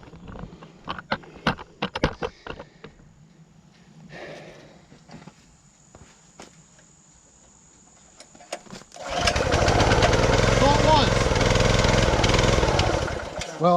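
A wood splitter's small gasoline engine, which won't start and may have a choke problem, gives a series of sharp clicks and knocks, then roars loudly and steadily for the final few seconds.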